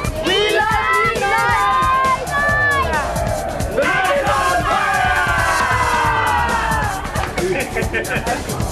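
A crowd at a rugby-style Knights match cheers and shouts, with overlapping excited voices, whoops and chanting building in loud waves and a steady babble beneath.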